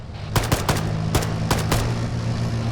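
Gunfire in the military shooter Arma 3 comes as a handful of sharp single shots in irregular rhythm. The cracks are moderately close over a steady low engine-like hum, with no one talking.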